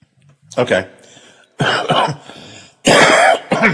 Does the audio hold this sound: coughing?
yes